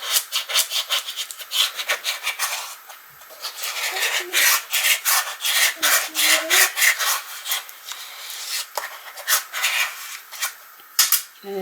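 An acrylic block rubs back and forth over a book-style box to spread glue, making rapid, rhythmic scraping strokes that are close and fairly loud, with brief pauses between bursts.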